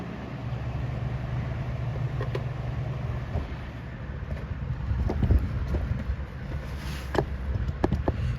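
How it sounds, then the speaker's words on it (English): An electric fan runs indoors in a hot house, giving a steady low whooshing hum throughout with a few soft knocks and handling bumps over it. "And excuse the fan noise"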